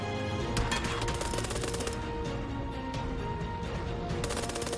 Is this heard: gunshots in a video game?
yes